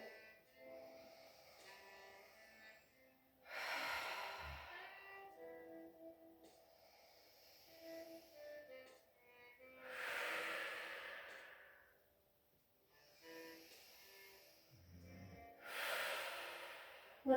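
Three slow group breaths in a quiet down-regulation class, each a soft hissing inhale followed by a longer, fuller exhale, spaced evenly with stillness between them.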